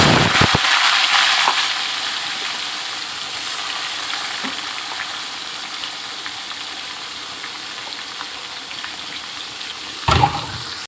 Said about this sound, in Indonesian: Ini kita goreng sampai garing